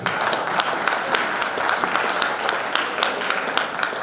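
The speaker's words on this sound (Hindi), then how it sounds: "ताली बजाओ।" An audience at a poetry gathering in a Jain temple in Bhopal bursts into sustained applause, dense rapid clapping from many hands filling the hall at steady loudness.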